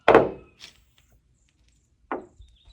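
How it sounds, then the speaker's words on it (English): Two hollow knocks on a 1970 Camaro door panel with body filler present, a solid clunk then a softer one about two seconds later, with a few faint taps between and after. "You can hear the clunk is different. Listen to the sound."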